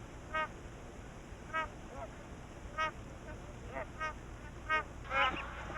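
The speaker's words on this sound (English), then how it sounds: "Magpie geese gather to breed" Magpie geese gathering to breed in Australian floodplain swamps, honking in a series of short, fairly loud calls spaced about a second apart over a steady background hum.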